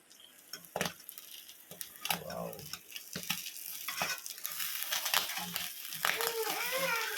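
A palak and tomato omelette sizzles in a pan while a utensil scrapes and taps at it during the flip, giving sharp clicks over a soft frying hiss, with a voice talking throughout.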